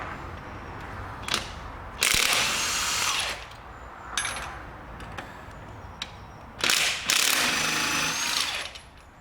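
A ratchet undoes 17 mm gearbox bolts on a Toyota Corolla, with several quick bursts of clicking separated by pauses and faint workshop background, close and fairly quiet.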